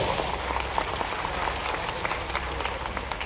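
A crowd in Bhopal applauds the Chief Minister of Madhya Pradesh at the launch of the Safe Click 2.0 cyber awareness campaign, a continuous dense wash of clapping from a large hall audience, steady throughout.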